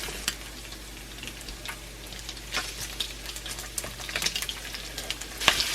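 Bacon sizzles steadily in a cast iron pan, a continuous crackle dotted with sharp pops and spits, close and moderately loud with no talking.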